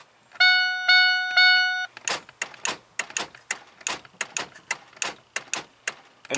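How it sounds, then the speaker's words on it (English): Body control module relays in a 1996-2005 Chevy Venture / Oldsmobile Silhouette / Pontiac Montana minivan with a power lock fault click in a steady run of sharp, close ticks, after three brief electronic chime tones. "you'll feel only one relay clicking."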